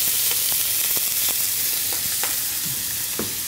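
Minced garlic sizzling in a hot pan with mixed vegetables, a dense steady crackle close up with a few light scrapes and clicks of a utensil, no voices.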